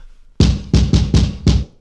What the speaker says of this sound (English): So that's the kick coming through the snare bottom mic, getting absolutely destroyed.